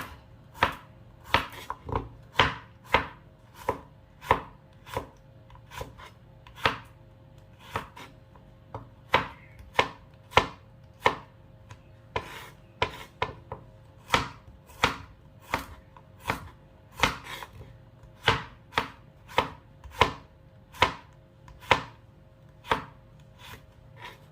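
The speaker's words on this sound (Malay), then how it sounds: "kemudian kita hiris bawang putih pula ya" A knife chops garlic cloves on a cutting board in a home kitchen, making about forty crisp, close taps in an uneven but steady rhythm, with short pauses between runs and no voices.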